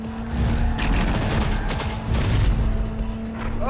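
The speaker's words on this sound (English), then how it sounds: "I've put so many bullets into this guy" Loud, dense gunfire and heavy booms from the video game Cyberpunk 2077 fill the clip in continuous rapid bursts over a low steady hum, close and punchy with no talk.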